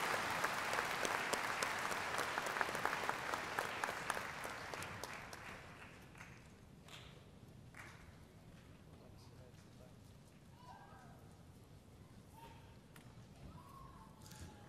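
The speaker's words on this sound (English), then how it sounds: "Please join me in a round of applause for Stephanie Morgan" A high school graduation audience applauds a teacher honored as Teacher of the Year, dense loud clapping that fades after several seconds into quieter crowd murmur and a few scattered claps.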